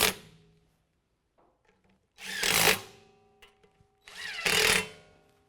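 A power tool snugs down the three 8mm bolts on a dust shield of a 2017 Ford F-150 4WD during a lift kit install. It gives two short, loud whirring bursts separated by quiet handling clicks.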